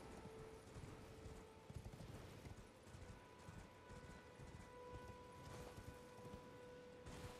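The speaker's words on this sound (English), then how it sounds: "I'm gonna get back on my horse here." Horse hooves clip-clop in a steady galloping rhythm across open ground near Agheel Lake in Elden Ring, close and continuous over a dense game ambience with a brief whinny.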